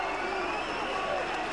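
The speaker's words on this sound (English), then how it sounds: "they are standing to acclaim Audley Harrison" Boxing arena crowd roars and applauds after Audley Harrison's knockout of Richel Hersisia, a dense sustained wall of cheering and clapping at full volume, with a commentator's voice mixed in.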